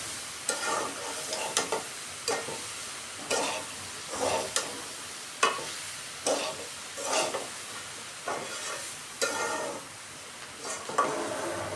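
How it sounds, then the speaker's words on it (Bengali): Soaked split chickpea lentils tipped into a pan of raw jackfruit curry, giving a steady run of sizzling, frying bursts with stirring scrapes at a regular rhythm, close and moderately loud with no talk. "ভিজিয়ে রাখা ডালটাকে এর মধ্যে দিয়ে দিচ্ছি।"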